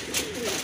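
A pair of Jalali pigeons gives a soft, low, rolling coo, close and clear against a light hiss of background noise.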